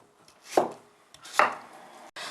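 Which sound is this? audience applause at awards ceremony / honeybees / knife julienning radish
knife julienning radish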